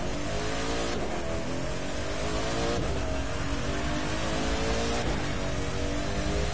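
A 1,000-horsepower car in The Crew 2 accelerates hard, its engine roaring steadily and loud, climbing in pitch through three clear upshifts, with no talking.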